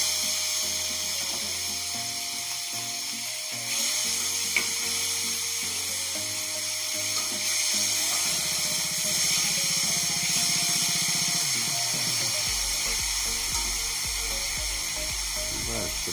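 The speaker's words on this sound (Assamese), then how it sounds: "ফ্ৰাই হ'বলৈ দিয়া যাওক, কিন্তু ফ্ৰাই হ'ব হাফ, ফুলফিল নহয়, হাফ।" Fish half-frying in oil in a wok produces a continuous soft sizzle at moderate volume, with some mechanical hum and clatter shifting partway through; no speech is heard.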